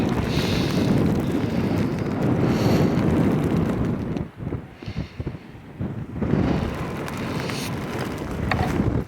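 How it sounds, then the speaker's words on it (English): Strong wind buffets the microphone outdoors in a snowstorm in a steady roar, briefly easing in the middle before gusting hard again. "it's windy out here"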